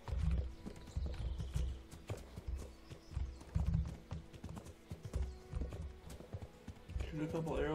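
Horse hooves clip-clop in a steady, fairly faint rhythm in Kingdom Come Deliverance, with someone talking over them throughout.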